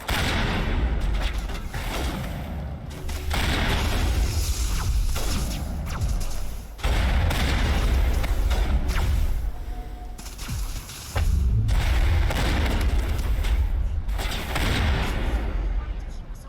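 Long-range turrets fire in Mass Effect: Legendary Edition, a dense, continuous barrage of heavy booming shots and thuds rolling on with brief lulls, loud and close throughout.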